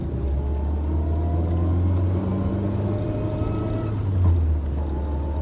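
An Austin Allegro 1300 Super on level road gives a steady low engine drone and road rumble from inside the cabin, with a slight swell near the end.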